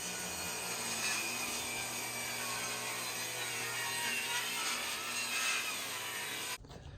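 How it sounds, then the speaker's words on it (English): A table saw rips a 2x4 along its length, a steady loud whine and hiss of blade through wood that runs without pause for over six seconds, then stops abruptly as the cut ends; no one speaks. "So the key to splitting 2x4s is setting the table saw at 1 3/4 inches"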